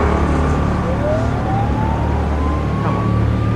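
A siren wails from an emergency vehicle, likely an ambulance, its tone rising slowly over a loud, steady rumble of engine and road noise.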